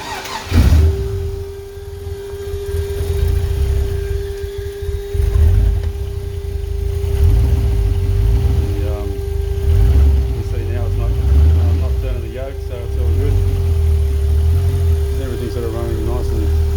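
A 5.7-liter LS1 V8 running on an engine run stand, a steady idle hum with a rumbling low end and occasional small revs, close and continuous while someone talks over it.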